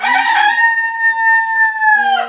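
A rooster among backyard domestic chickens crows once, a loud, close, drawn-out cock-a-doodle-doo that holds its pitch and drops at the end.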